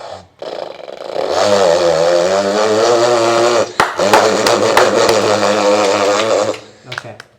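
A person's voice imitates a racing motorcycle: a sustained, buzzy engine-like drone that rises and wavers for several seconds, with brief sputters near the end.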